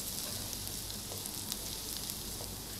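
Onion and garlic sauté in a pan for a meatless mushroom béchamel pasta, making a soft, even sizzle that holds steady throughout at low volume.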